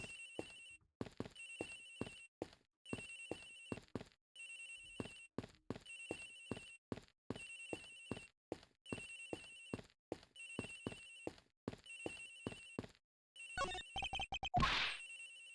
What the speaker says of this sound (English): it sounds like a lullaby I used to love as a child. I'd better find that cell phone fast.